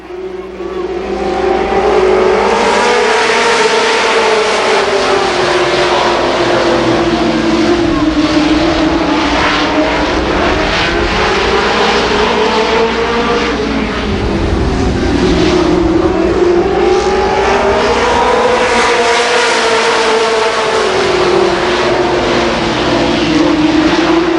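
Super late model race cars roar around Columbus Motor Speedway in a 1990 feature race, a loud sustained engine drone rising and falling in pitch as the pack laps the track, with an announcer's voice over the noise.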